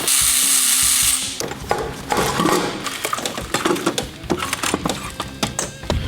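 Close, loud work loosening 10 mm bolts on a Land Rover supercharger, with a steady high-pitched tool whine at first, then a busy run of ratcheting clicks, metallic taps and clunks.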